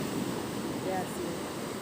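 Sea waves wash onto the shore at a beach in Goa, a steady broad roar mixed with wind noise, with no talking.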